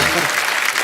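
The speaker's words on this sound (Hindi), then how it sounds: "जोरदार तालियां।" A studio audience on a comedy talk show bursts into loud applause, a brief dense wash of clapping heard close and alone.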